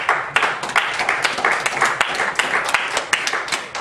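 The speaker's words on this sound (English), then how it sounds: "let's give a round of applause to these guys." A church congregation applauds through a morning men's service, a dense, steady round of clapping with sharp individual claps standing out, fairly close and loud, with no talk over it.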